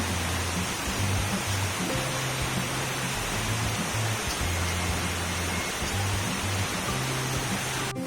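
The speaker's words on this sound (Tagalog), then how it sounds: "Grabing lakas ng ulan." Heavy typhoon rain pours steadily during Typhoon Hanna, heard from high up in a house as a dense, unbroken roar that stays loud and even throughout, with no voices.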